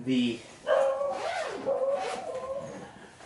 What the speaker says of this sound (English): I apologize about my dog barking.